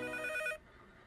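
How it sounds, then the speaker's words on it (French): A telephone bell rings indoors in a short, loud burst of bright tonal trills that cuts off abruptly halfway through, leaving a quiet room. "le téléphone"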